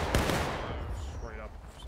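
Musket fire crackles in War of Rights during a 150-man Civil War battle, one sharp nearby shot followed by a dense rolling volley of distant gunfire, with faint voices underneath.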